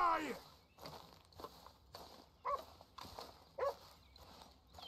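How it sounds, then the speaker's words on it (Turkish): Dog barking in Red Dead Redemption 2, two short yaps a second apart in the middle, with footsteps and faint game ambience around them. "Ya yine mi köpek var amına koyayım?"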